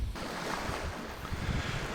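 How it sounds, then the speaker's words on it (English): Steady low rush of ocean surf with wind buffeting the microphone, no voices. "we're just hearing the beautiful sound of the waves behind me"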